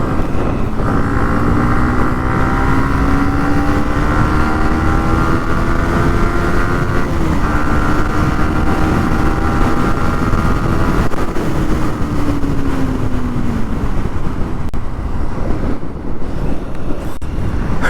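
A Yamaha MT15 motorcycle rides a highway near Kalyani at night. Engine drone rises and falls through the gears under constant roaring wind buffeting the microphone, and no one speaks.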